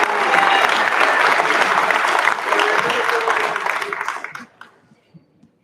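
An audience at a 2023 high school graduation commencement applauds loudly and steadily for about four seconds, then the clapping thins out quickly to a few scattered claps and near silence.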